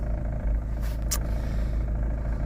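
A warmed-up 1994 Volkswagen T4 van with a 2.0 petrol engine, whose lambda sensor fault causes high fuel use, runs at a steady, close, low rumbling idle, with a brief airy hiss about one second in.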